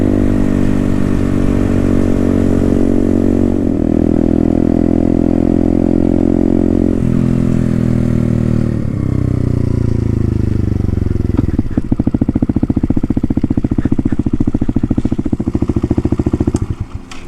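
Herald Maverick 125cc retro scrambler motorcycle on knobbly tyres being ridden on the road, its single-cylinder engine droning loudly and steadily, dropping pitch through gear changes and then rising again under acceleration.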